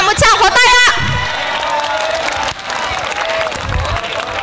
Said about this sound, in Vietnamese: Cả trường hãy dành cho bạn một tràng pháo tay ạ.